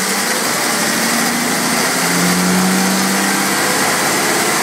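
A 700R4 automatic transmission running in first gear on a dyno, with a loud steady mechanical whine and engine drone and a slight rise in pitch partway through, alone without talk.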